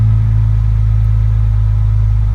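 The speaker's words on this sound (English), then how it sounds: "there's 4 different exhaust settings here. Got normal. We got sport. You hear that tone change?" Ford Bronco Raptor exhaust in sport mode, a loud, deep, steady idle rumble with a strong low pulsing drone close to the microphone, no talking over it.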